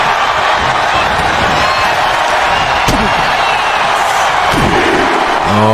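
A loud video-game wrestling arena crowd from WWE 2K25 cheers continuously, with a couple of sharp slams or thuds cutting through the roar and a rising shout near the end.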